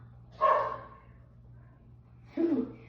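Two short barks from a dog, roughly two seconds apart, fairly close against a quiet background.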